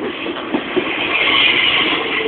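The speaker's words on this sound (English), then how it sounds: "Train!" A train rumbles past on a nearby railway line, a steady loud roar of wheels and rail noise with a few louder knocks, heard from close by.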